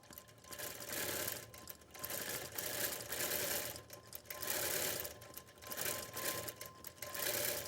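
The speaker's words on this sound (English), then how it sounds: "we'll let it stitch out and watch it complete this project" A quilting sewing machine stitches out a feathered flower design, its rapid mechanical whir running steadily for the whole stretch with brief dips in between, up close and alone.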